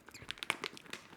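A bag of candy crinkles and crackles while being pulled open, giving a quick run of close, sharp crackles with no talking.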